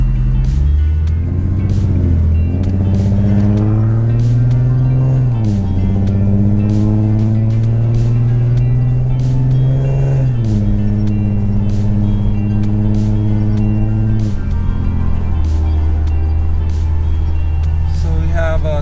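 A 2013 Infiniti G37 sedan fitted with a swapped VR30 transmission drives along, its engine note rising through the gears in repeated sweeps with audible shifts, loud and close from inside the cabin, with a person talking over it.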